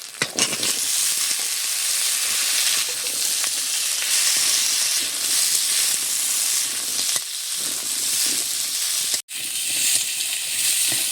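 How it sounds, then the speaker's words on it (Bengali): Potatoes frying in a pan of well-cooked spice paste give a loud, steady sizzle that runs throughout with only a brief break near the end, and no one speaks. "বেশ সুন্দর করে মশলাটা কষে নিয়েছি। দিয়ে দেবো আলু।"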